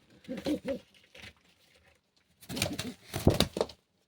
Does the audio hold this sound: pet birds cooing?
yes